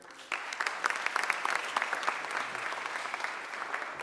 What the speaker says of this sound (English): Please give a huge round of applause to Reginald Streeter.